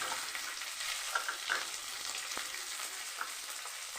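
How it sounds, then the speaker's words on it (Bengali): A bay leaf fries in hot ghee for carrot halwa, giving a soft, steady crackling sizzle with occasional sharper pops, close and quiet with no talking. "এবার আমি দেব তেজপাতাটা ভেজে নেব"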